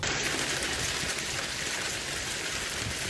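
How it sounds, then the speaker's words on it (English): Heavy hail pours down during a nighttime thunderstorm in Wright City, a dense, steady, loud hiss and clatter with no break from start to finish. "That's heavy hail coming down tonight in Wright City"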